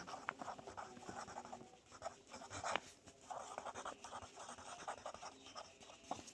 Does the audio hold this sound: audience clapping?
no